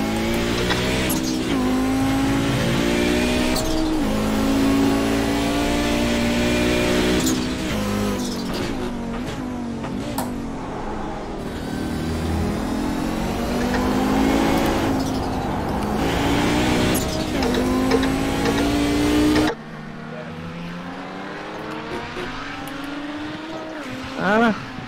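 GTO race car in a racing video game at Okayama, the engine revving hard through upshifts and downshifts with tire squeal, loud and continuous, then dropping to a lower drone near the end.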